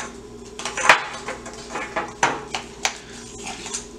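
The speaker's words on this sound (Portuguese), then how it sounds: "Tô misturando com uma colher" A spoon stirs cookie batter in a bowl, scraping and tapping in uneven strokes, with soft clinks of metal on the dish, close by and otherwise quiet.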